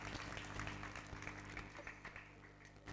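Applause from a gathered congregation honouring donors to a Jain temple being built on a hill, steady clapping throughout with a low tonal hum underneath.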